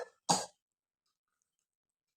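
A single short, sharp cough with a throat-clearing rasp from someone ill with a sore throat, close and alone against silence, with a faint hint of another at the very end.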